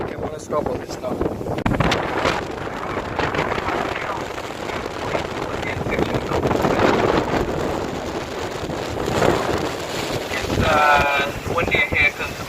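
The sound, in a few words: strong wind on a boat in Milford Sound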